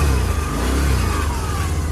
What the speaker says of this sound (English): So there's a protector right here on the exhaust to keep you from getting burned. And it was rattling.